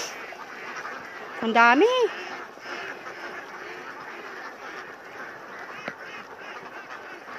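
A large flock of domestic ducks in a rice paddy, with a brief burst of quacking calls around the middle against steady outdoor ambience, while a person speaks briefly.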